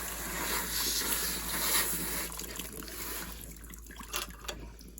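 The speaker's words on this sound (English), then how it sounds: "She's going to give it another rinsing." Water runs and trickles steadily over a freshly butchered rabbit carcass on a farm, a broad hissing splash that eases off toward the end with a few small drips and knocks.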